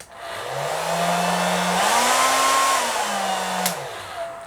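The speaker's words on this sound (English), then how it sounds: "I have my wife's blow dryer, so let's go ahead and see how this works" A two-speed hair dryer powered by a Bluetti EB70 battery blows with a steady, loud whooshing hum on the heat-off setting, its motor pitch stepping up and back down as the speed changes.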